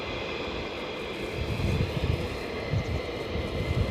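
An F-15 Strike Eagle jet at RAF Lakenheath moves off, a sustained distant engine roar and whine with gusty low rumbling that thickens slightly toward the end, without any talk.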